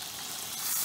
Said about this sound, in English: Ooh, I can hear the sizzling.